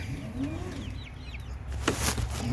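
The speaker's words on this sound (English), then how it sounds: "There's some of the chickens." Chickens clucking and chirping softly in a homestead coop over a steady background hum, with a brief rustle near the end.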